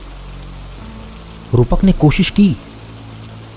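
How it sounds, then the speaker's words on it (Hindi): Heavy rain in a Hindi horror story: a steady, soft wash of rainfall runs throughout, with a voice briefly narrating over it midway. "भारी बारिश शुरू हो गई"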